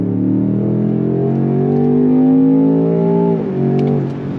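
A 2026 Range Rover Sport SV Edition 2 accelerates hard on throttle, its engine note climbing steadily in pitch for about three seconds, dipping briefly at a shift, then pulling again; loud, close and continuous with no talking.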